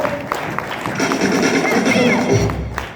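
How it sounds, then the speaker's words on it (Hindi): An audience at a leadership program talk breaks into applause and cheering for the speaker, a loud, busy burst of clapping, shouts and thumps from a nearby crowd, swelling in the middle and ending with a low rumble. "ताली एक बार सर के लिए हो जाए"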